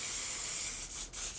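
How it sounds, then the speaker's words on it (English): One Size setting spray mists onto a face in a close, steady hissing burst, with two brief gaps near the end as the pumps pause. "I'm gonna set the face with my One Size setting spray."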